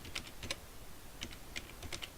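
Typing on a computer keyboard, with soft clusters of key taps in short bursts, fairly faint and close, no voices.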